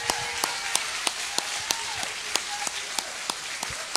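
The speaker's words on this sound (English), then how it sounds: "we're all standing and we're giving you a hearty round of applause" Standing audience applause at a live speech event, a dense wash of clapping steady throughout with a regular beat of sharp, prominent claps from someone close by.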